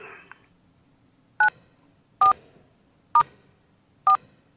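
A telephone keypad is dialed in the Kentucky Route Zero video game: four evenly spaced, clear dual-tone beeps ring out one after another over a quiet background, following a faint opening tone.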